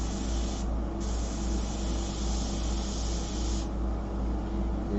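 An airbrush sprays paint with a steady, close, soft hiss while its needle keeps sticking in the nozzle; the hiss thins out twice and then resumes.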